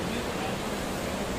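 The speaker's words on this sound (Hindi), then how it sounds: "पानी बहुत ही तेज है" Fast-flowing river water at Manikaran Sahib, a loud, continuous rushing wash with no break through the short stretch.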